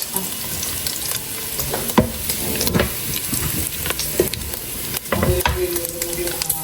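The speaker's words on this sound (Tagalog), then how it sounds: "Gigisahin na po natin dito yung bawang at sibuyas." Garlic and onion sautéing in hot oil in a pan, a steady dense sizzle with stirring clatter and scrapes throughout, fairly close and loud, with no talk.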